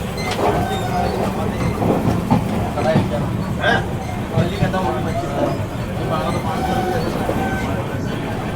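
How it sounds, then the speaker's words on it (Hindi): The Jaipur Nagpur Express arriving at a station: a steady rumble with clattering wheels and squeaks, under constant nearby talk. "तो अभी आ चुके हैं यहाँ पर जयपुर नागपुर एक्सप्रेस।"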